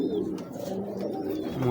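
Teddy pigeon, a bred fancy pigeon, cooing softly in a low, continuous murmur that stays steady and close throughout, with no voices.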